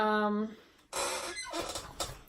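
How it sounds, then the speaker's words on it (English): A squeaky chair gives a sharp, high squeal at close range, followed by a few dull creaks and shuffling movements while someone sits doing hand stitching. "sorry for the squeaky chair, totally annoying, I'm sure"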